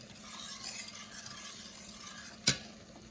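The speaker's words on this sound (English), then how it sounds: "Just mix it thoroughly so there are no granules" A flour and butter mixture for halva being stirred in a pan, a faint, steady scraping and shuffling with one sharp utensil clink near the end.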